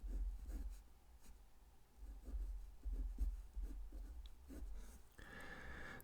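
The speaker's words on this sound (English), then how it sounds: "Let me imagine writing something like this." Hand writing algebra on paper, quiet scratching pen strokes in short bursts with pauses, close and faint, ending in a brief brighter rustle.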